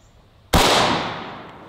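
A single loud gunshot as a poison bullet is fired into ballistics gel, a sharp close blast after a short quiet lead-in that decays through a long rumbling tail.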